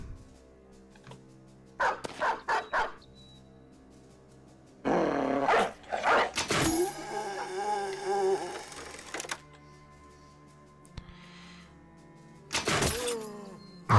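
Dogs barking and growling in the Battle Brothers video game, loud bursts in short clusters, then a long sustained snarling stretch and a final burst, over steady game background.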